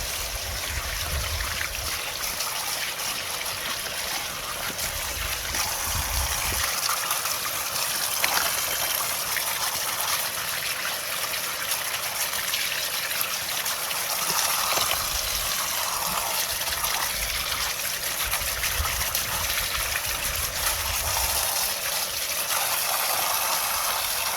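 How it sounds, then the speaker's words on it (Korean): A fishing reel, just cleaned of rust, is rinsed under running water, a continuous close splashing and trickling stream with varying gushes as the reel is turned under the flow. "일단 헹궈 볼게요, 이거. 물로 씻어줄게요, 이렇게."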